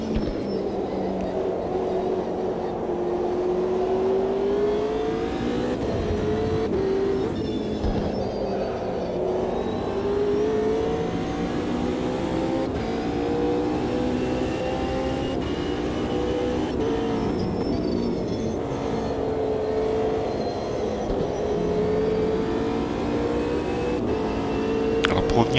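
Porsche race car engine in the racing game Automobilista 2, a steady loud drone that climbs and falls in pitch through gear changes, continuous from start to end with no talk over it.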